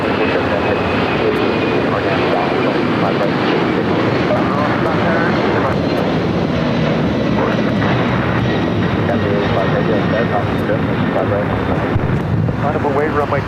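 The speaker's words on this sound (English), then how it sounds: "We also have Delta Airlines 528 767 300ER taking off to Atlanta." A Delta Airlines Boeing 767-300ER jet takes off at LAX, its engines roaring loudly and steadily with a broad, wind-buffeted rumble and a faint whine running throughout.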